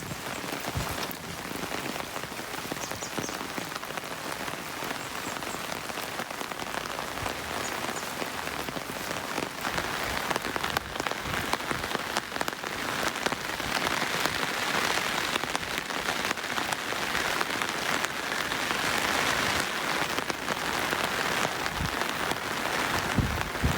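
Heavy, unseasonal midwinter rain pours down in Queensland, a dense continuous patter of drops on surfaces that grows slightly louder as it goes on, with no talking.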